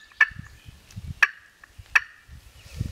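Wild turkey feeding call during a spring turkey hunt in Quebec: three sharp, clear yelping notes spaced about a second apart, close and prominent, with low soft rustling and knocking between them.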